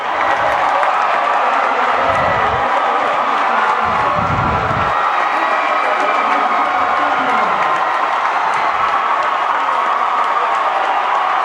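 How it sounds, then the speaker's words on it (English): A large basketball crowd erupts after Florida Southern's Mocs beat UAH to reach the Elite Eight, with loud, continuous cheering, applause and shouting filling the arena throughout. "And listen to the crowd."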